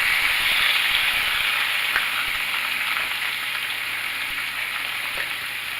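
A steak is laid into a hot pan and sizzles, a close steady frying hiss that eases slightly over several seconds, with no talking.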